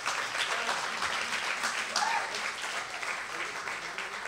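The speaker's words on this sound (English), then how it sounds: "Please give a round of applause to the Ian Baguette Trio." Applause from a seated audience for a jazz trio after a talk, a fairly quiet, steady wash of many hands with faint murmuring mixed in.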